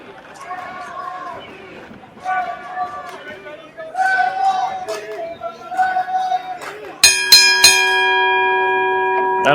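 A wrestling match bell rings loud and clear with a sustained metallic tone that opens the bout. Before it, an arena commentator talks over a crowd.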